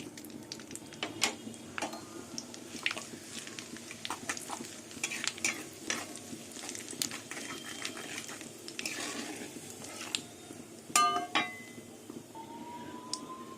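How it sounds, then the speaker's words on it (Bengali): Bay leaves, a whole dried chili and whole spices temper in hot oil left from frying potatoes, giving a low sizzle under frequent clinks and scrapes of a utensil against the pan, with no speech. "এই তেলের মধ্যেই দুটো তেজপাতা একটা গোটা শুকনো লঙ্কা আর গোটা দিয়ে ফোড়ন দিয়ে দেবো"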